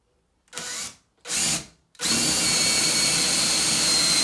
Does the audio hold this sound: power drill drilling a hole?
yes